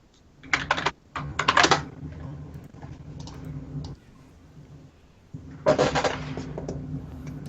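Fast typing on a computer keyboard comes in quick bursts of clicky keystrokes, with pauses between them, heard close and fairly loud over a low background hum.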